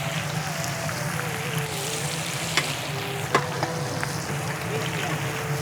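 Bitter gourd and koi fish frying in hot oil with mustard seeds, onion, garlic and green chili, giving a steady close sizzle with a few light clinks from stirring.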